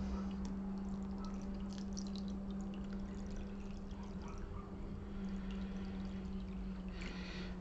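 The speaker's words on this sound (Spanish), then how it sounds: "Y lo vamos a cubrir con agua." Water pours into a bowl over a tight ball of sourdough starter in a kitchen, a soft, steady trickle with small splashes and drips under a constant low hum.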